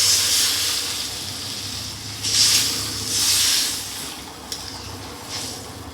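Water simmering in a pan of fish curry with potatoes, a steady broadband hiss and bubbling that swells in a few louder surges, close up with no talking.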